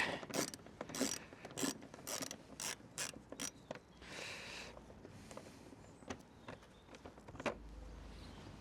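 Ratchet tool clicking in quick bursts while windscreen bolts are undone on a car, close but quiet, with irregular pauses and short rattles between runs.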